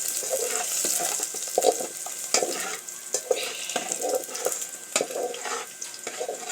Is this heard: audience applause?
no